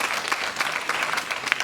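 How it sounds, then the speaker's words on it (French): Brief burst of audience applause at the opening of a festival edition, a steady wash of clapping heard moderately close with no voices. "Je déclare cette édition ouverte sous votre applaudissement."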